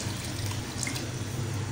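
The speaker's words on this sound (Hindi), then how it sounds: "व्यूअर्स अब ये मैं डाल रही हूँ पानी" Water pouring steadily into a cooking pot while lentil khichdi is being made in a home kitchen, a continuous close splashing stream with no talk.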